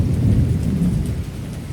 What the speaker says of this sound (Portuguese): chuva pesadíssima aqui hoje